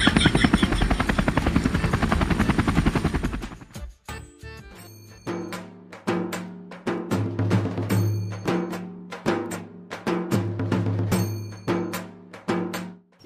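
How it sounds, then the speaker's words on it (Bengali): A helicopter comes in to land, first a dense, steady roar, then a loud, rhythmic rotor chop that pulses and swells for several seconds, close by. "আমার হেলিকপ্টার ল্যান্ড করার জায়গাটাও তো দেখতে হবে।"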